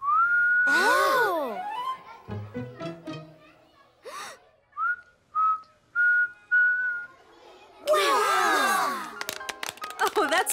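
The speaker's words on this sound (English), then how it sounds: "You learned to whistle." A young girl whistles in an animated cartoon classroom, giving short wavering tones broken up by breathy attempts and gasps, with loud bursts of cheering at the start and near the end.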